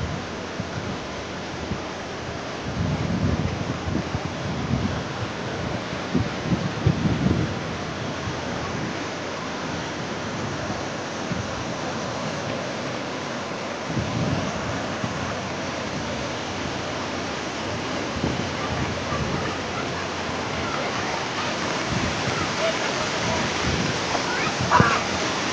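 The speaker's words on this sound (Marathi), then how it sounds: "धबधबा" A waterfall roars as a steady, broad rush of falling water from a high hillside above a village, continuous throughout with a few bursts of louder splashing, while people talk faintly at times.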